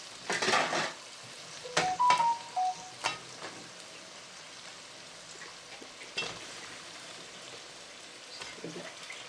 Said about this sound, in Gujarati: ગવાર એકદમ હવે નાખી દઈએ શાક